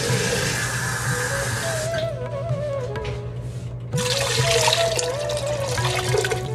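Water pours from a jug into a cooking pot for a chickpea dish, a steady rushing splash that breaks off briefly midway and then resumes just as strongly, close and alone without talk.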